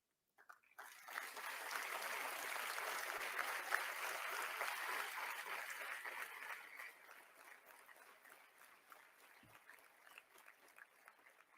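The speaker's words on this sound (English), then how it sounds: "May I request this audience to give a generous round of applause for all our speakers" A conference audience claps for the speakers, moderators and panelists at a naval panel discussion, a soft, distant wash of applause that swells after the first second, holds, then fades out over the last few seconds.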